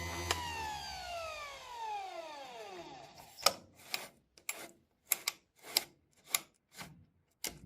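A GÜDE GKS 108 chainsaw sharpener spins down with a falling motor whine, then gives a series of sharp, evenly spaced grinding rasps and clicks as a chain is sharpened tooth by tooth, close up and without speech.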